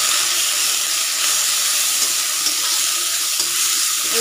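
Curry leaves and crushed paan leaves fry in a pan at home, a steady dense sizzle with faint stirring scrapes and no talk.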